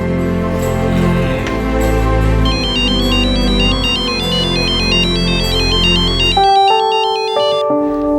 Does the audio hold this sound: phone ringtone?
yes